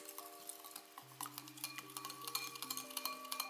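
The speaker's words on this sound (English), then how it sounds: "Now let's give it a last mix." Chia pudding stirred with a spoon or whisk in a bowl, light clinking and scraping taps in a quick, uneven rhythm, close and quiet, over soft background music.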